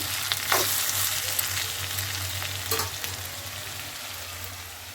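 Grated beetroot frying in a pan, with a constant close sizzle and occasional scraping stir strokes, no voices.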